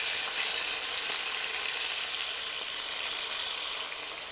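Green chillies and onion dropped into hot oil, a bright, loud, close-up sizzle that fades slightly as it settles, no voices.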